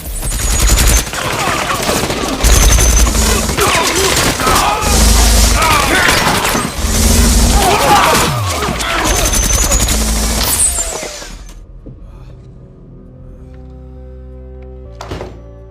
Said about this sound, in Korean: 그리고 덩컨이 준비한 무기 군대 발사.